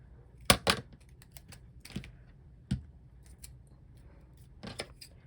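Scissors snip off excess from a popsicle stick bookmark in a few sharp, close cuts, clustered pairs of crisp clicks spaced by quiet pauses; no speech.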